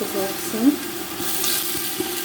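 Onions, bell peppers and meat sizzle together in a pan for an aubergine dish, a steady close frying hiss with a faint splash or stir partway through.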